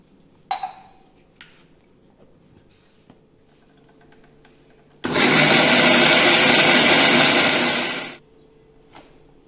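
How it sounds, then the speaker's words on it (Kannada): A few clinks and small taps, then a loud mixer grinder whirs steadily for about three seconds grinding a wet grated-coconut mixture before stopping abruptly. "ನೀರು ಹಾಕಿಕ್ಕೆ ಗ್ರೈಂಡ್ ಮಾಡೋಣ ಬಪ್ಪ"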